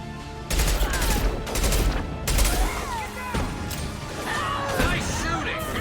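Gunfire in the video game Mass Effect 2 during a fight with mercenaries and snipers, dense rapid bursts and impacts over a loud combat soundscape, with voices talking over it.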